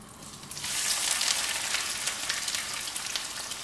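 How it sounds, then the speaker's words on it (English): Steady, crackling sizzle of onions frying in hot oil, close and fairly loud, continuous with dense popping throughout. "we're going to fry our onions and let it join the party"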